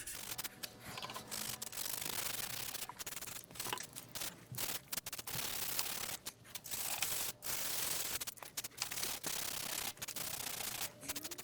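Wet sandpaper is rubbed by hand over scratches on a Scout Carbon paramotor, giving repeated close rasping strokes with short pauses between them.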